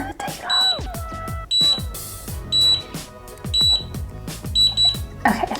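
A Conair Unbound cordless auto-curler gives short high beeps at a regular pace, about once a second, over a background of music with a steady beat.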